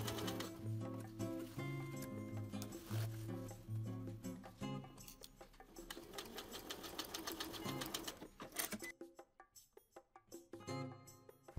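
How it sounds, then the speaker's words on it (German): Sewing machine stitching a zipper onto jeans, rapid rhythmic mechanical chatter in several bursts with short pauses between runs, close and clear. "Anschließend nähe ich den Reißverschluss schmalkantig auf."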